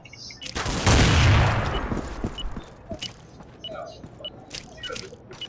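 Gunfire in Counter-Strike 2 on the Dust 2 map during a ranked match: a loud burst of rapid shots up front, then scattered clicks and mechanical weapon noises, with no talk.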